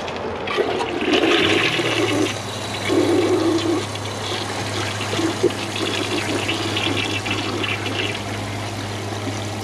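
A Kohler Wellworth toilet flushes 1.6 gallons, a loud rushing surge of water draining through the bowl, then a steady hiss and hum as the tank refills.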